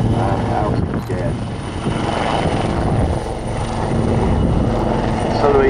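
A Royal Navy Wildcat helicopter's rotor and turbine roar steadily and loudly while hovering at an air display, a continuous thrum without pause.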